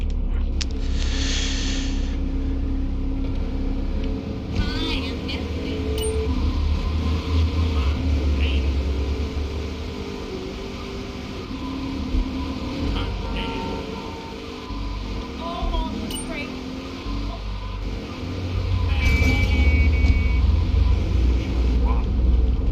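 Steady low engine drone of a car driving in Grand Theft Auto III, rising and falling slightly over time, with someone talking over it throughout.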